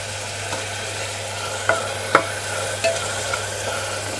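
Onion and garlic frying in a pan with a few spoons of oil, a soft steady sizzle with a few sharp stirring scrapes and clinks, close and unaccompanied by talk.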